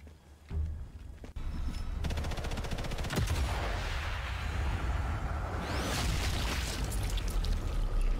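Rapid bursts of gunfire crackle continuously over a steady mechanical roar in the video game Sniper Elite: Resistance, loud and close, with a whooshing swell partway through.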